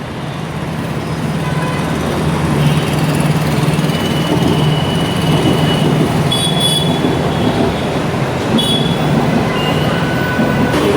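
A metro train at Goregaon station in Mumbai rumbles steadily and loudly throughout, with a few faint high squeals of wheels and brakes over the continuous roar.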